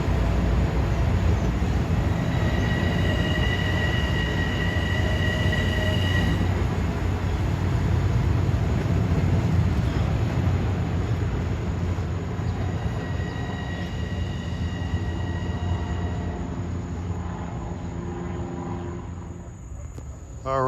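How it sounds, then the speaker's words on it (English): Long Island Rail Road express train from Penn Station to Ronkonkoma rolling steadily through Farmingdale as it slows, a loud continuous rumble of wheels and motors with brief sustained whining tones over it. "1962, an express from Penn Station to Ronkonkoma, slowed down in its tracks"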